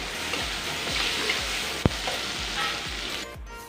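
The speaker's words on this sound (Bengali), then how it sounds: "টমেটোটা দিয়ে একটু নাড়াচাড়া করে টমেটোটা সামান্য একটু নরম করে নেব।" Chopped tomato fries in spiced oil for a fish curry, giving a steady sizzle with rhythmic spatula scrapes and one sharp clack against the pan midway.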